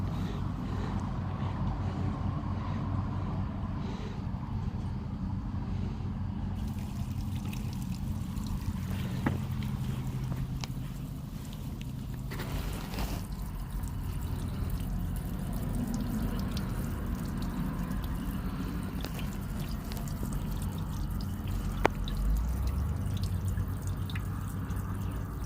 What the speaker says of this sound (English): It's just a sink drain, ain't much water gonna be coming out.